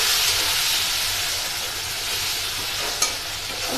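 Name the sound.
sliced potatoes frying in oil with nigella and chillies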